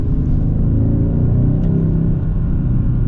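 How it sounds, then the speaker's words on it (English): A 2024 Hyundai Sonata N-Line four-cylinder engine accelerates with a steady, loud, deep rumble from inside the cabin, building smoothly without a break. "that sounds pretty dang good too for a 4-cylinder"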